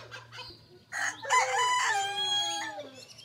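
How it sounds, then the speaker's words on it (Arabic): Bantam silkie chickens on a farm: a rooster gives one full, drawn-out crow close by, preceded by soft clucks, over a faint low steady hum and with no talking. "هذا هو الدجاج الجديد اللي انا وعدتكم فيه"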